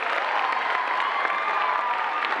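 Audience applause at a road safety campaign event run by the Navi Mumbai traffic control department: a dense, steady wash of clapping from a crowd, loud and sustained throughout.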